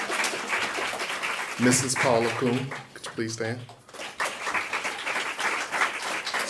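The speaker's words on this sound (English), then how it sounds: "We can give her a round of applause." Audience applause at a high school summer graduation ceremony honoring a school board member, a steady wash of clapping running under an announcer's amplified voice.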